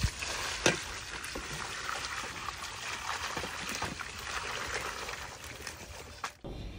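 Freshly caught fish being rinsed in clean water at a village home, steady splashing and trickling water with sloshing movement and a few sharper splashes, close and moderately loud throughout.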